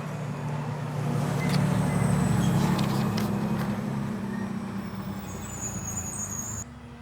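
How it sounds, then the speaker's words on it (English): A big garbage truck rumbles loudly past on a rural road, its low engine drone swelling then fading, with a short hiss near the end. "The garbage truck, it's garbage day today, and the big truck was really loud crashing through here"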